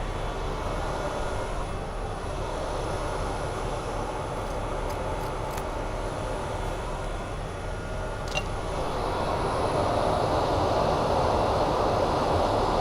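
A bamboo and resin pen blank spinning on a lathe is sanded with 400 grit Abranet mesh, giving a continuous, steady broadband hiss and rumble that runs unbroken throughout, with a few faint high ticks.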